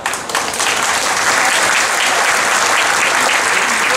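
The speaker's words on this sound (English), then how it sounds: "For those who agree, please clap" A large dinner crowd claps loudly in agreement at a political banquet, a dense sustained burst of applause that swells within the first half second and stays full and even throughout.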